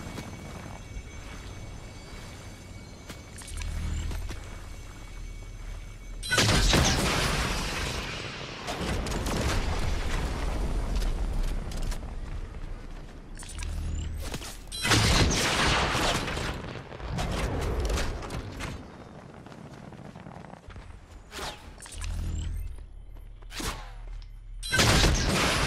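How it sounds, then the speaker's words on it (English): An AI turret in Fortnite fires inside a building in heavy, repeated bursts of gunfire with booming impacts, loud and close, separated by brief quieter gaps. "That's an AI that's shooting at inside of the building."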